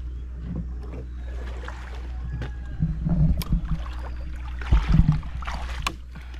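A small boat, a bangka, moves along shallow coastal water off Punta Fuego, with a steady low engine hum and wind noise running throughout and brief splashing knocks swelling twice near the middle and end.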